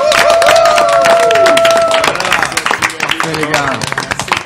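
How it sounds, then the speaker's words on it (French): A live radio studio audience claps and cheers in dense, continuous applause that thins toward the end, with voices and whistles mixed in and people talking over it. "on applaudit tous."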